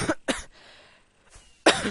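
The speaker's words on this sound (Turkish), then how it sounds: "Böyle öksürüyorum kusura bakmayın." Several sharp, close coughs from a person with a pollen allergy: two quick ones, a pause with faint breathing, then another harsh cough.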